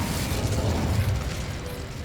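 An Incendio fire spell cast in Hogwarts Legacy bursts into a deep, rumbling blast that roars steadily for about two seconds, heavy and full in the low end, with no voices.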